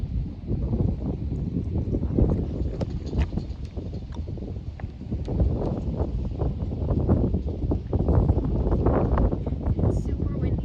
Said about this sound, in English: It's super windy and really noisy